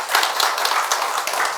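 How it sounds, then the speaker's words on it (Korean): A short burst of applause from a Buddhist dharma service congregation, dense overlapping claps without pause. "박수 한번 쳐드리세요."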